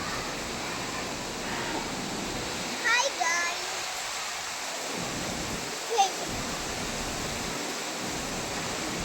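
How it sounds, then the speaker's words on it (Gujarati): Heavy rain driven by wind in the Sarthana Jakatnaka area, a steady broadband roar that continues without a break, with a few brief vocal sounds on top. "પવન હારે વરસાદ છે"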